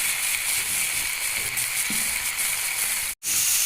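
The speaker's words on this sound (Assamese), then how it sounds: "এইখিনি মই অকণমান ভাজি ল'ম এতিয়া একেলগে" Tomatoes fry in a pan for a paneer and peas curry paste, producing a loud, even sizzling hiss that continues throughout with a brief break near the end.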